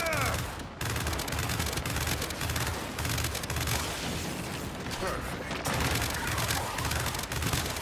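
Sustained gunfire in the shooter game Gears 5, rapid overlapping bursts and clattering mechanical shots forming a dense, continuous barrage with a brief pause near the start, while voices talk faintly underneath.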